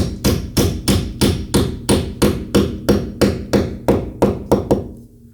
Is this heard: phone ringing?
no